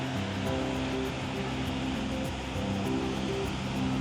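Ocean surf rolls in at Praia da Luz beach in Portugal on a windy day with fairly large waves, a steady broadband wash with wind noise and faint voices underneath.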